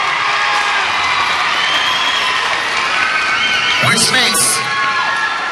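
Crowd at a 2014 IESA junior high cheer competition morning awards ceremony, sustained cheering with shrill children's shouts and whoops, a few spoken words briefly under the noise.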